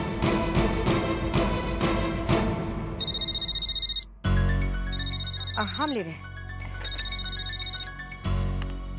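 An electronic phone ring sounds in repeated short bursts over background music, and a voice speaks briefly between rings.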